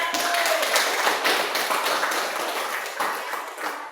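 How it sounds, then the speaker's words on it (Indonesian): A classroom full of people clapping continuously, dense and lively applause that tapers slightly toward the end. "Tepuk tangan untuk kelompok 1."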